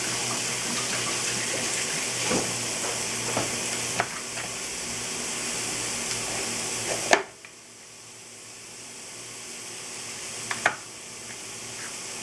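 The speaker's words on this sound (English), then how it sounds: "Just rinse it off real quick" Kitchen tap water runs steadily over food being rinsed, with soft clunks; the flow cuts out abruptly partway through, then continues more quietly before another brief knock.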